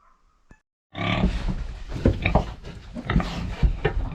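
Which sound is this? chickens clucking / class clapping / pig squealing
pig squealing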